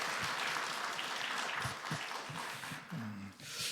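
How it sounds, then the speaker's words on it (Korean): Congregation applauding two church members at a worship service, a steady wash of clapping from a large crowd with a few low voices murmuring underneath. "박수 한번 보내드리겠습니다"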